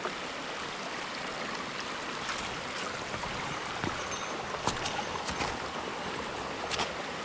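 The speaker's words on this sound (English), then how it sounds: "See the water coming down there. That's what was making all the noise. It sounded like a really good stream." A small stream of water flowing down along a hiking trail between Harpers Ferry and Ashby Gap, a steady broadband rushing and trickling that holds even and fairly loud throughout, with no voices.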